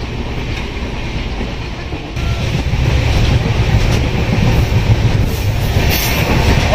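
The Tamralipta Express 12857 runs on rails on the Howrah to Digha line, a loud steady rumble with rhythmic clickety-clack heard close from inside, swelling louder after the first two seconds.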